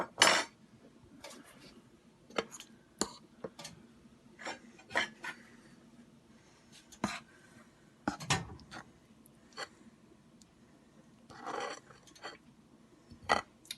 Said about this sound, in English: I'm just taking some cauliflower and coating it in the batter